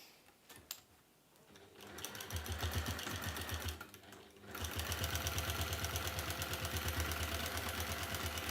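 A sewing machine stitches a seam on a slouchy velvet bag. It starts quiet, then runs as a steady, rapid mechanical whir, pauses briefly, and resumes with continuous close, fairly loud stitching.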